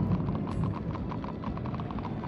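Quick repeated clip-clop of a caravan of horses' hooves in the video game Minecraft Story Mode, steady and even over a rumbling background.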